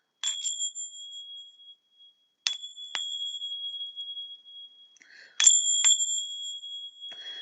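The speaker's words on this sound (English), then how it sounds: "Oh, I've got my tincture bells this morning." Small tincture bells struck several times in three clusters, each a bright ringing strike with long sustained shimmering tones that decay slowly, heard alone and fairly close in a quiet room.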